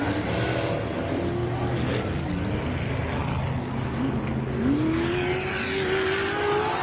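Off-road race vehicle engine at wide-open race speed during the MetalCloak Stampede, a steady loud roar with a rising pitch sweep near the end, no talk over it.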